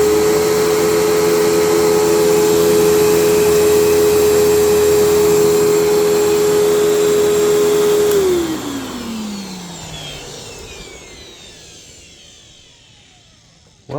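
Kenmore PowerPath 116/UG4A upright vacuum cleaner running with a loud, steady motor whine and hum, then switched off around eight seconds and spinning down with a falling pitch to near silence, followed by a click.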